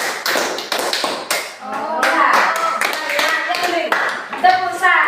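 Rhythmic hand claps, five beats repeated in a counting pattern, with voices chanting the count over them throughout; the claps are sharp and close, mixed with singing-like speech.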